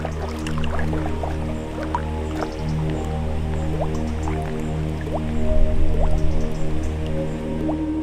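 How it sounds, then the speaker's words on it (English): Water in a PFAS-contaminated waterway bubbles and drips with steady small pops and trickles over a continuous low hum, with no talk. "these little bubbles are sort of signs that there might be PFAS in that water"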